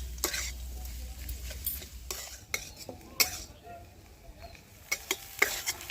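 Potato and cauliflower filling for cauliflower chops being stirred and pressed in a pan over low heat, with irregular scraping strokes and spoon clacks over a faint sizzle, close and quiet with no voices.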